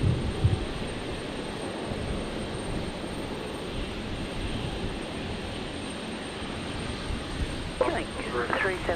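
A Dash 8 turboprop at Brisbane Airport at night gives a steady, distant broadband roar for the whole stretch, with people talking over it throughout.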